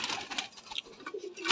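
A pigeon coos softly with a few low, faint calls at close range, against light background noise and without talk.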